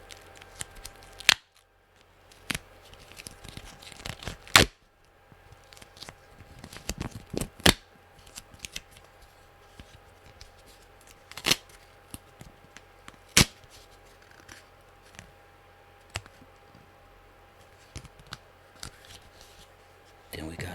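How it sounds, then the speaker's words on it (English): FBG duct tape being handled, scattered sharp crackling rips and snaps of tape at close range, separated by quiet gaps, with a person talking softly in between. "It's that FBG duct tape."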